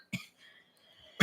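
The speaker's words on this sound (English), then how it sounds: "So now you're coughing in my direction. Now I'm coughing." Two short, sharp coughs from one person, close and fairly loud, separated by about a second of quiet indoor air.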